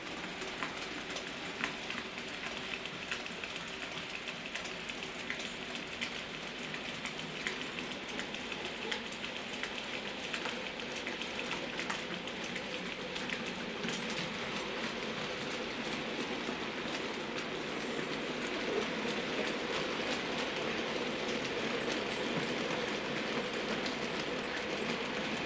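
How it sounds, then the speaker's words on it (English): A model Class 85 electric locomotive hauls a freight train over a set of points on a layout, giving a steady, continuous rumble and rattle of wheels on track throughout, with no talk. "we're going through here a set of points with the freight train"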